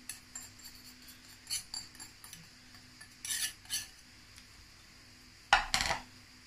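A spoon or whisk mixes eggs into savoury cake batter in a bowl, giving scattered light clinks and scrapes against the bowl, with a louder clatter near the end.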